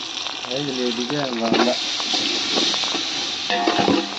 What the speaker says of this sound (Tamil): அதை லைட்டாக அப்படியே வதக்கி விட்டுக்குவோம்.